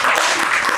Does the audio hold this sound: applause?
yes